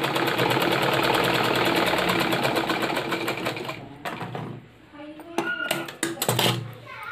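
Electric sewing machine stitching elastic into a garment sleeve, a fast even needle rattle running steadily for several seconds, then slowing to a stop with a few short bursts and handling clicks.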